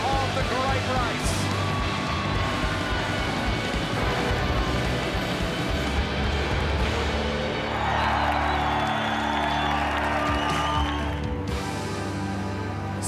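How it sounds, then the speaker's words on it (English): A crowd cheers atop the hill at a Supercars Championship race as a Red Bull car wins, the roar dense and sustained amid engine and background noise, with a commentator talking over it. "Crowd erupts on the top of the hill."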